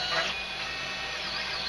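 Creality Hyper PLA filament printing on a 3D printer running at high speed, 120 mm per second. A steady, fairly loud mechanical whir and stepper whine hums continuously, with no talking.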